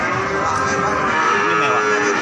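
Cattle low and moo at Pasar Pon Ambarawa, an Indonesian livestock market, with several overlapping drawn-out calls close by against steady market din and no clear talk.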